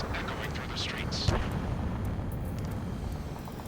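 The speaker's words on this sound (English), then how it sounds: "Gunfire, roar of jets echoing through the streets." Gunfire and roaring jets echoing through city streets in the video game Ace Combat 7, a dense, continuous low rumble with a sharp crack near the middle, loud and steady beneath faint higher sounds.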